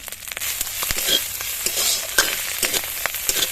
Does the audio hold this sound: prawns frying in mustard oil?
yes